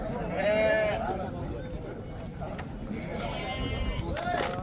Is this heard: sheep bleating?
yes